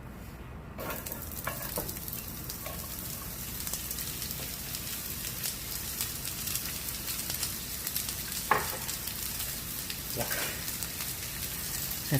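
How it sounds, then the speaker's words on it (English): Vidalia onions, about two cups, sizzle and crackle steadily in a little oil in a pan, an even frying hiss running throughout with occasional louder pops and stirring sounds, no talking. "Love that sizzle."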